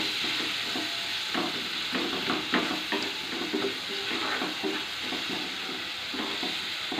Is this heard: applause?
no